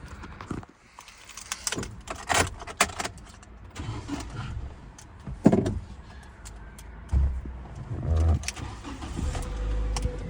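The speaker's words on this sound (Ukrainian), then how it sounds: "Зараз заведемо автомобіль." A 2004 Nissan Almera car engine cranks and starts, then settles into a steady idle, with nearby clicks and thumps from inside the cabin and bursts of revving between.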